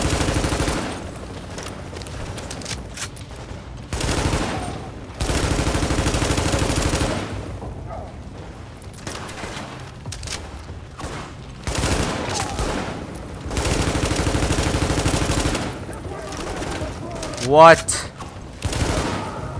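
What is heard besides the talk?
sniper gunfire in the video game The Division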